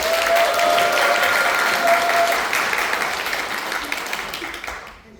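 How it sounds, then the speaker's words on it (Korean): Audience applause welcomes a speaker at a Democratic Party guest lecture event, a dense, sustained clapping that holds steady for a few seconds and then gradually fades away. "박수로 맞이해 주시기 바랍니다"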